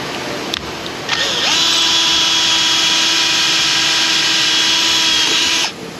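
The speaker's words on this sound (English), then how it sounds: "Drilling continues." A power drill boring through metal on a Chevy Cobalt, a loud steady high-pitched whine that spins up, holds for about four seconds, then winds down.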